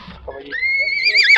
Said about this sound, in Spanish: Es caballito.